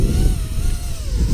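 A FuriBee Stormer 220 FPV racing quadcopter flying outdoors, its motors giving a steady, loud buzzing whine that rises and dips slightly with throttle, heard alone without talk.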